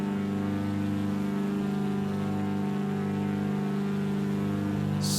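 Twin engines of a simulated Cessna 337H Skymaster in Microsoft Flight Simulator X revving for takeoff, a loud steady droning hum with layered tonal harmonics held throughout, no voices.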